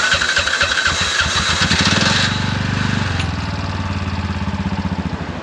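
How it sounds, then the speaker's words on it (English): Tuk-tuk engine cranking and catching, with rapid chugging turnover that settles into a loud, pulsing idle, close by and alone. "it sounds like two metal pieces like click together on the ignition"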